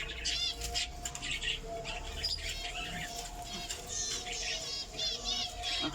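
Budgerigars in a cage chirp and warble in quick overlapping bursts, close and moderately loud over a faint background hum.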